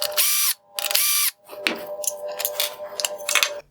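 A powered screwdriver backs Phillips head screws out of a 2019-2021 Toyota RAV4 Hybrid LED headlight projector: two sharp whirring bursts, then a run of close ratcheting clicks and rattles.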